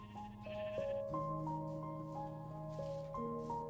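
Sheep bleating in the Minecraft video game, several short wavering bleats in sequence over soft background game tones, clear and close.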